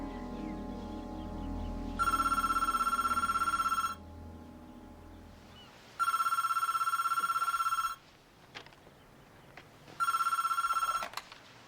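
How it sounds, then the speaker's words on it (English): An electronic telephone rings early in the morning in three steady two-second bursts spaced evenly apart, loud and close over a low background hum. "I sleep a lot better when the phone doesn't ring at 6 a.m."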